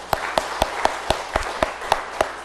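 A church congregation applauding to welcome returning members during a Sunday service, with crisp claps landing in an even, steady rhythm about four per second.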